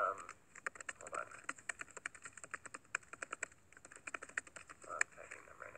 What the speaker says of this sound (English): I'm typing them right now.